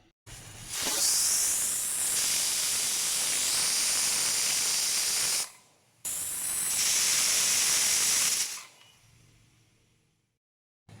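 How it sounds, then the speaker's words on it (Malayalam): A large pressure cooker on the stove releases two long, loud bursts of hissing steam, each lasting several seconds with a brief gap between them, close up with no talking. "ഇത് കുക്കറിൽ വിസിൽ വന്നു"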